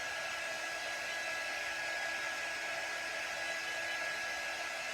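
A hair dryer blows steadily and loudly at close range while drying paint on a craft egg carton, a continuous airy roar with a faint whine and no talk.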